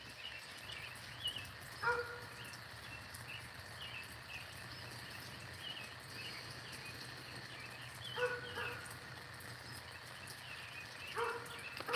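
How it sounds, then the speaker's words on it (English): Dogs bark behind a neighbouring house in the early morning. A few faint, distant bursts of barking rise at intervals over a steady chorus of crickets and insects. "I hear my neighbor's dogs in the back of his house."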